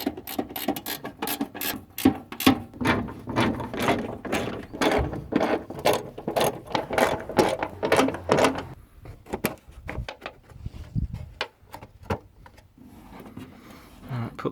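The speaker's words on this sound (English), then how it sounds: "We'll just get a spanner onto those and get them tightened up." A spanner tightens bolts on the front wing of a Jaguar XJ6 X300, with dense rapid ratcheting clicks and metallic knocks close by, busy and steady before thinning into scattered clicks toward the end.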